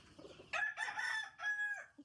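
A rooster crows loudly and close by, in two drawn-out bursts, with soft clucking before and after.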